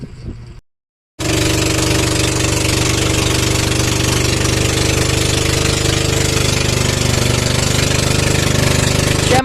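A sampan boat engine drives the boat from Lawang Pier to Rawis Pier in Laoang, Northern Samar. It chugs loud, close and steady after a brief dropout near the start, with no talk over it.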